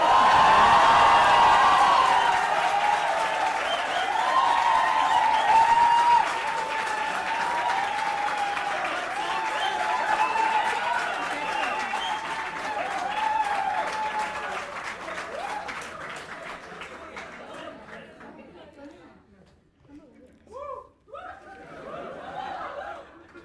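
Sustained applause from a large convocation audience in a hall, dense and loud clapping with some laughter, thinning out and fading toward the end as a few voices and scattered claps remain.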